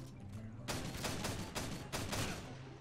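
Close, loud shotgun and rifle fire from a Call of Duty MW2 match comes in several heavy bursts about half a second apart over steady game background noise.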